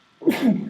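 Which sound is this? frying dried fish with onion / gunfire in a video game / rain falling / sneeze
sneeze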